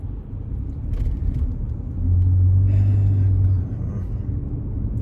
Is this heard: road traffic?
yes